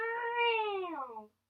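During a yoga class, a person imitates a cat with one long, drawn-out meow that rises slightly and then falls, loud and close, ending in a brief pause before another sound begins.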